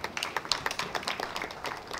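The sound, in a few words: audience applause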